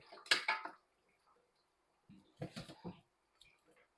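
Cooked stewed beef lifted out of a cooking pot, with two bursts of clinking metal utensil against pot, a short pause between, then a softer rattle or two trailing off.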